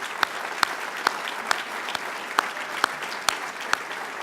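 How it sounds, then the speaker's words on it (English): Audience applause for the Reporters Committee for Freedom of the Press at its 2017 dinner, a steady wash of many hands with a few sharper, regular claps standing out, with no talk over it. "let's give the Reporters Committee for Freedom of the Press a big round of applause."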